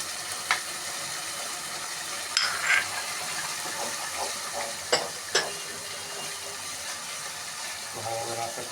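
Spices cooked down with tomato sauce and paste for a home-style chicken roast sizzle and get stirred in a pan, a steady frying hiss with occasional scraping clicks and a brief watery run near the end.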